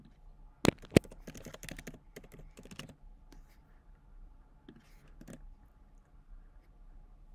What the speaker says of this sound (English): We're going to start by typing our integration name.